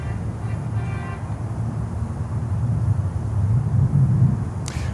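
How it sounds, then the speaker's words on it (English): An Atlas Air Boeing 747 at Miami airport gives a steady, broad jet rumble that swells slightly louder toward the end, heard at a distance with no talking. "Atlas 747 going north."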